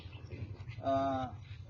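A Kapila cow, a native cattle breed, gives one short low moo of about half a second, heard fairly close over a faint steady background hum.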